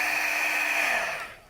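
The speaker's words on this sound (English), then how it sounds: "You want to apply heat to both sides of the piece of thermoplastic." A heat tool blows steadily, close and fairly loud, as it warms a thermoplastic craft sheet, its broad whooshing hum holding even before tapering off near the end; no one speaks.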